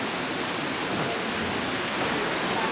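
Steady rushing water drives a water-powered sawmill at a historic mill creek, a dense broadband roar that holds constant and fairly loud throughout, with no other sounds breaking through.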